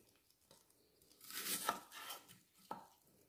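A knife chops through an onion on a cutting board, a few soft crisp cuts with one louder burst of rapid slicing, heard up close and quiet.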